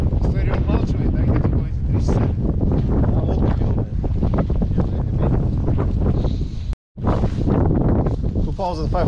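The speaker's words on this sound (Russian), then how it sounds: "Сегодня ветер." Wind buffets the microphone steadily outdoors on the deck of a cargo ship at the start of loading for a draft survey, a rough, continuous rumble with people talking over it throughout.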